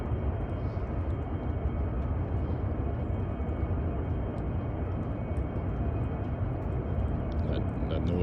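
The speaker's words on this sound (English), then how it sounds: "That noise is from the xAI power plant in Southaven, Mississippi." A constant low droning rumble from the xAI power plant in Southaven, Mississippi, heard from outdoors in the distance, steady and unbroken throughout with no talk over it.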